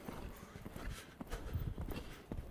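A ridden horse's hooves clip-clop in a steady, rhythmic gait during a riding session, the hoof strikes fairly close and clear over a soft background of ambient noise.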